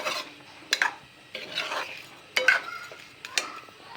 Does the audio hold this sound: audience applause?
no